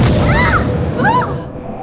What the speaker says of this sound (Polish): Uruchamiam fajerwerki.exe.